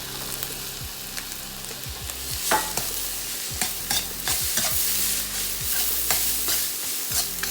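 Carrots and green peas are stir-fried for egg fried rice in a sizzling pan, with a steady frying hiss broken by repeated scraping and clacking strokes of a spatula, close and moderately loud.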